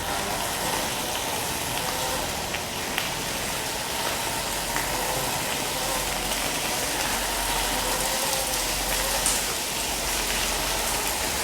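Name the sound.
rain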